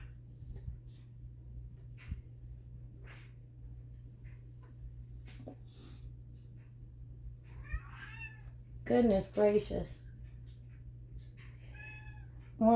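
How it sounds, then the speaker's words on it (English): An elderly cat, nearly twenty years old and very vocal, gives a cluster of loud, close meows, with a few fainter meows spread over quiet indoor room tone and someone speaking briefly. "That's my cat that's almost 20 years old."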